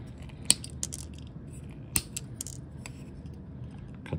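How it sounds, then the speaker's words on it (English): Scissors snip away a plastic holder from a painted model kit part, a few sharp isolated clicks close by over quiet background. "Cut this out of the way."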